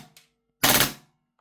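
A KSC MP9 airsoft gas blowback submachine gun fires a short full-auto burst: one loud, sharp rattling blast lasting under half a second, preceded by a faint mechanical click and followed by silence.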